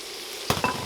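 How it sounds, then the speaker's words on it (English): Zucchini noodles hit a hot pan with a sudden loud sizzle, followed by a second burst of crackling as they settle, after a quiet start. "now we're going to go ahead and drop our zoodles in"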